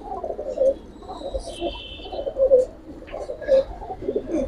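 Giribaz and red-coloured military pigeons coo in a low, throaty rolling pattern, with repeated close bursts rising and falling and faint higher bird notes in between.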